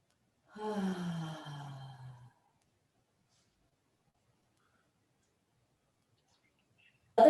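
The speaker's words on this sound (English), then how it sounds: "as you exhale, you can make the sound ha, and you can begin that with the mouth open" Slow breath exhaled through an open mouth with a breathy 'ha', as in ujjayi yoga breathing; one long audible sigh lasting over a second, close and clear, followed by silence.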